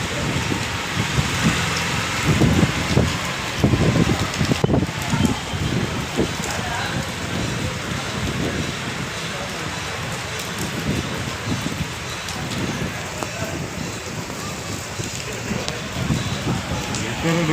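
Heavy rain pouring down in Puri, a steady broadband downpour that holds close and loud for the whole stretch, with a few heavier bursts near the start and talk faintly mixed underneath.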